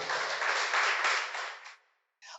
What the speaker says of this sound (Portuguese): Você pode aplaudir o Senhor mais uma vez nessa noite?